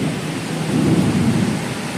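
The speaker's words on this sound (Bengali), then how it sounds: "দেখো বন্ধুরা প্রচুর বৃষ্টি হচ্ছে" Heavy rain pours down in a dense, steady hiss and rumble that swells slightly midway, loud and continuous with no voices.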